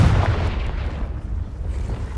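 A Confringo fire spell bursts in Hogwarts Legacy, a loud rumbling explosion that hits hard at the start and then rolls into a sustained low roar for a couple of seconds.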